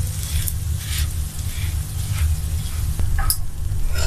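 A spicy egg pancake fries in a pan under a low, constant hum, giving a soft, patchy sizzle broken by a few short scrapes and taps as it is flipped.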